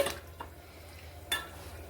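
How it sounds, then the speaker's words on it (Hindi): A spoon stirs a mixture in a pan after half a lemon's juice goes in, making a couple of brief scraping clinks over a quiet kitchen background. "अब इसमें डाल देंगे आधा नींबू का रस और उसके बाद फिर अच्छे से हम मिक्स कर लेंगे चलाते हुए"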